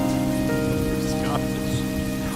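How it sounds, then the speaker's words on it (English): Steady rain pours down in a continuous, even hiss with patter on surfaces, fairly loud and constant throughout, with no voices heard. "The rain was coming down"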